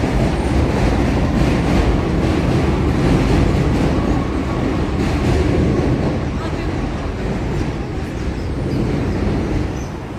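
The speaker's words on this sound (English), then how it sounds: "Someone who lives here, they hear the trains all the time." A D subway train rides through Brooklyn with a loud, unbroken roar of wheels and rattling cars that stays close and steady, then eases off slightly toward the end.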